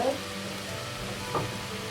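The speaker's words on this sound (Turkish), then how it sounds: "Üzerine 2 adet orta boy doğradığımız soğanımızı koyuyoruz ve güzelce soteliyoruz" Two medium chopped onions sautéing in a pan for hünkar beğendi, a soft, steady sizzle with light stirring scrapes, fairly quiet and close.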